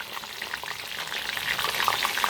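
Giant gourami deep-frying in hot oil, giving a steady, close crackling sizzle with bursts of popping that grow slightly busier toward the end.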